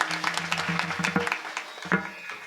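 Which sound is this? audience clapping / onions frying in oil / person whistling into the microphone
audience clapping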